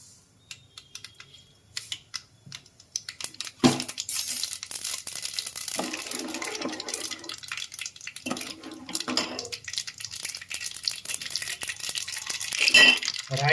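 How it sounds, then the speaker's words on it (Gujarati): Two spoonfuls of mustard seeds crackle and pop in about 70 grams of hot oil during tempering for garlic sandwich dhokla, a dense run of sharp clicks that starts quietly and becomes steady and busy. "રાઈને બરાબર ફૂટવા દેવું."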